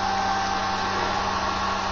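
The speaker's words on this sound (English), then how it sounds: "Picked my daughter's hair dryer." A household hair dryer blows in a steady, continuous high-speed whoosh with a motor whine, used to dry a wet spot during rust treatment and repair on an Austin A35, close up and loud with no talking.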